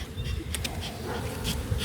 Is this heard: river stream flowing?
no